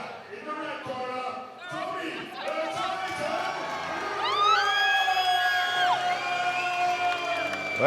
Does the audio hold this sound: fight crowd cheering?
yes